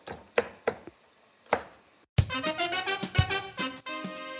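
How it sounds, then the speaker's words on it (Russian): Pork cut into pieces on a board in a Sichuan noodle soup kitchen: sharp, close knife chops, a few spaced strikes then a faster run of clattering cuts, with no speech. "свинину нарезаем кусочками"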